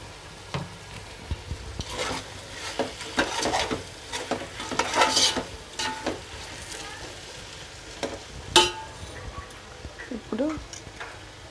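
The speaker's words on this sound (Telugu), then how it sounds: "అన్నీ కలిసేలాగా తిప్పుకుందాం." Prawns with spices being stirred in a pan for prawn biryani, sizzling softly while a spoon scrapes and clinks in scattered strokes; a voice talks intermittently over the cooking.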